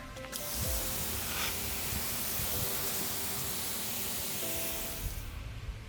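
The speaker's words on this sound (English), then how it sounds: "So we'll just spray it off now with some water." Water sprays onto a new tire in a steady, loud hiss from start to finish, with small splashes and drips mixed in.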